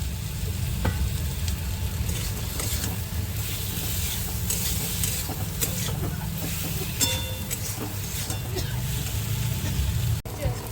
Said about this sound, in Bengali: এখানে আমি ওই ভেজে রাখা আলুটা দিয়ে দেবো দিয়ে ভালো করে একটু কষিয়ে নেব